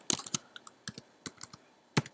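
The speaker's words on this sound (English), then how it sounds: "I'm going to go ahead and type my name one time." Someone types on a computer keyboard into a blank document: a short burst of close, irregular key clicks, a pause, then a few scattered keystrokes and one firmer final tap.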